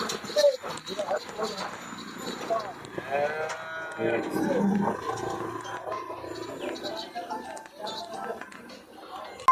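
A Sahiwal cow lows a few times amid other farm animal sounds, with people talking loudly nearby throughout.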